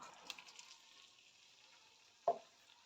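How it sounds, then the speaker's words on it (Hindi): Boiled potato slices frying in hot oil in a wok give a faint, steady sizzle, broken once by a short, sharp clatter near the end. "इनको फ्राई करेंगे प्यारा सा कलर आने तक"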